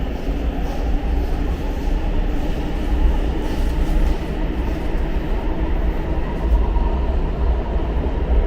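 Elizabeth Line train arriving at Bond Street station, heard from inside as a steady, loud rumbling roar of wheels and motors with faint rail clatter, continuous and unbroken, without voices.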